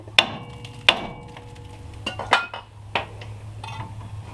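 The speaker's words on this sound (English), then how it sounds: "to free it, you just hit it right on the knuckle" A hammer strikes the steering knuckle of a 1999–2007 GM truck during front wheel bearing work, giving two sharp metallic clanks followed by several lighter knocks, close and loud with no talking.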